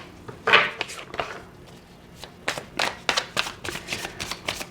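Tarot cards slide, flick and tap as they are moved and staggered across a table, a close, irregular series of papery swishes and soft slaps with brief pauses between them.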